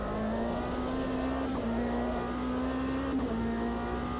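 Race car engine droning steadily at high revs in Automobilista 2, loud and continuous with slight pitch shifts at gear changes, plus road and wind noise.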